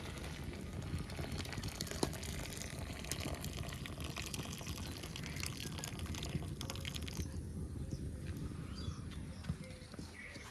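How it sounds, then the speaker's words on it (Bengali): Water is poured off half-boiled lentils in a continuous splashing stream that runs throughout, easing slightly toward the end. "ডালটা আর্ধেক ফুটে গেছে এবার ডালের জলটা ঢেলে নেবো"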